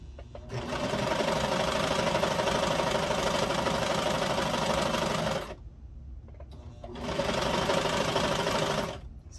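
A sewing machine runs a stretch stitch along a nightgown hem in two bursts, a long steady whirring run, a brief pause, then a second shorter run, close and loud with no talking.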